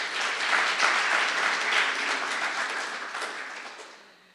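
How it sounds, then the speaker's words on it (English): An audience applauds a team at a university portal and poster launch, a steady crowd of clapping hands filling the room before slowly tapering off. "Let's give them a round of applause."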